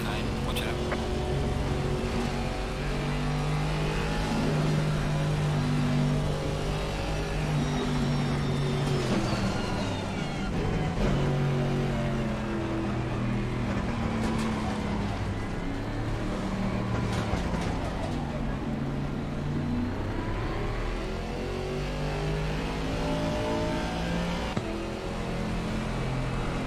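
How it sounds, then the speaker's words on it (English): A GT4 race car engine in a racing video game drones and shifts pitch as cars close in and pass, a steady loud mechanical roar running throughout under a voice. "Faster car coming up behind."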